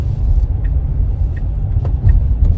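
A Tesla electric car accelerates, heard from inside as a loud steady low road rumble with faint high whine, brief and without talk.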